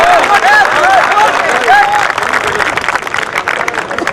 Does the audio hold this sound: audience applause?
yes